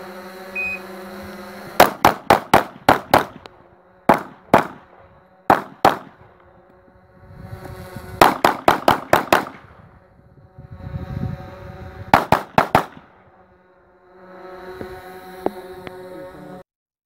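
Pistol shots fired in quick bursts during an IPSC shooting stage: several volleys of four to six sharp, loud cracks separated by pauses as the shooter moves, with no talk over the shots.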